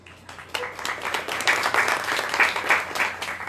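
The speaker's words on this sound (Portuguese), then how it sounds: "É uma pergunta que merece aplausos mesmo." Audience applause at a public meeting with candidates for state and federal deputy, a dense burst of many hands clapping that starts abruptly and holds steady, moderately loud and fairly close, with no speech over it.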